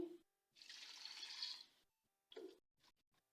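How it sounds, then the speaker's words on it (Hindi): Water is poured from a glass into beef mince cooking with red chilli, turmeric and salt, a short splashing pour followed by a few faint trickles and drips, with no talk. "इसमें 1 गिलास में पानी डालूंगी"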